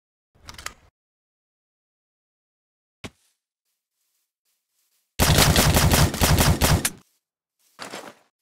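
Automatic gunfire in Vic's Modern Warfare mod for Minecraft: a long rapid burst of loud shots, with a few short isolated shots before it and a brief burst after it, quiet gaps in between.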